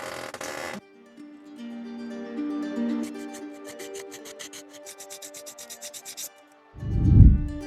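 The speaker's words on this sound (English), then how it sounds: "All right, I got it polished up pretty nice." A small carved bone walrus figure is polished, giving a run of rhythmic rubbing strokes over a faint steady whine, followed by a short, louder, low scuffing burst near the end.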